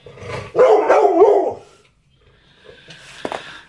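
Several dogs bark, starting with a loud close burst of barking, then a pause and fainter yips and a sharp bark further off.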